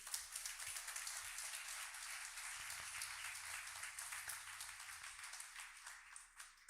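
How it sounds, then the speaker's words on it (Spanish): A church congregation claps and applauds steadily throughout, somewhat distant and evenly sustained, fading slightly toward the end. "Un aplauso a Jesús"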